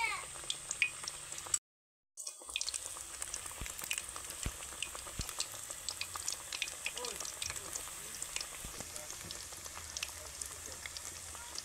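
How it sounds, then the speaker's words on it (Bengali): Bean pakoras fry slowly in oil over low heat, giving a soft, steady crackling sizzle with scattered pops that continues throughout, broken only by a brief dropout near the start. "এইবার হালকা আঁচে এগুলো ভাজার জন্য কিন্তু সময় দিতে হবে"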